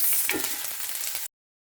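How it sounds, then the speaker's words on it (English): Diced onion sautéing in hot oil for an African salad (abacha) dish, giving a loud, steady crackling sizzle close up for about a second before cutting off abruptly. "Once the oil is hot, I'll introduce my onion. I will saute for a minute."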